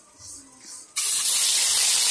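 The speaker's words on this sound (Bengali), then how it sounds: "তেল গরম হয়ে গেল, এক এক করে মাছগুলো ভেজে নেব।" Fish dropped into hot oil for frying: after a soft hiss, a sudden loud broadband sizzle bursts in and holds steady, close up.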